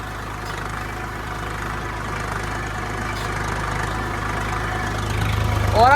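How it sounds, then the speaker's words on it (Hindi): Swaraj tractor diesel engine running steadily while ploughing a garlic field, a continuous low drone that grows slightly louder toward the end. "ये साफ परिणाम है कि स्वराज के इंजन में दम बहुत ज़्यादा है"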